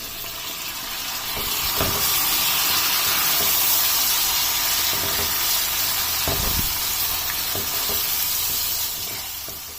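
Five medium tomatoes dropped into garlic, ginger and chili paste frying in a pan, producing a loud, steady broadband sizzle with occasional stirring knocks and scrapes, close up and with no talking.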